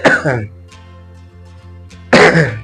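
A single throat clear opens, then a quiet steady hum, and a second short cough-like burst arrives near the end.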